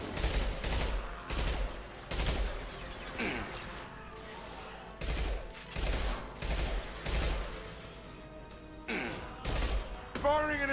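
Repeated bursts of gunfire from impact shots in the sci-fi video game Mass Effect 2, loud and close, with clustered volleys and crashing impacts over continuous game noise.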